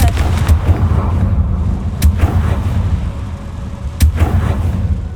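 A Confringo fire spell is cast in Hogwarts Legacy, giving a few sharp blast-like bursts over a steady low rumbling game ambience.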